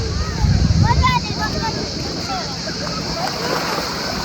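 Someone jumps into the sea off a paradise island, making a brief splash and slosh early on, followed by gentle water movement and rippling under a constant outdoor wash.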